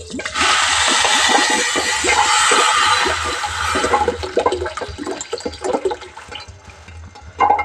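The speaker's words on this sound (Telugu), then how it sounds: "దానికి కొంచెం వాటర్ వేసుకుందాం." Water is poured onto sugar to make syrup for gulab jamun. A loud, continuous gush lasts several seconds, then thins into scattered splashes and trickles.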